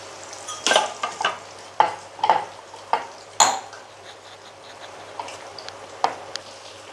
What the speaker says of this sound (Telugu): ఇది మళ్ళీ ఆయిల్లో వేసుకున్నామండి.